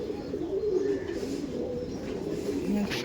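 Racing pigeons coo in low, rolling murmurs close by, a continuous soft burble with faint background noise.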